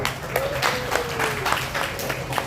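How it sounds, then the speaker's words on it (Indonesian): Scattered applause from a seated group greets a presenting team, a patter of claps in short uneven bursts over a low room murmur, with a faint thin tone drifting underneath. "aplaus untuk kelompok 2"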